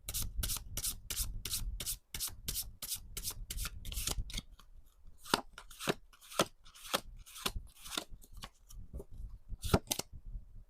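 Tarot cards riffle quickly in a fast flurry of dry flicks, then slow into separate slides and taps as cards are drawn, close and crisp with no voices.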